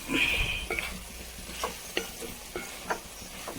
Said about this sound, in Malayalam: അതിൽ ഒരു മൂന്നാല് സ്പൂൺ ഇട്ട് കൊടുത്തിട്ട് നന്നായി ഇളക്കി കൊടുക്കാം